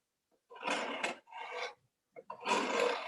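A knife makes fine smoothing cuts on a wooden spoon being carved, producing three short dry rasping scrapes close by, separated by brief pauses, with no talking.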